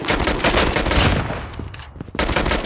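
Dense, loud gunfire in a Call of Duty match, a continuous rattling volley that briefly drops off before resuming, with no voices over it.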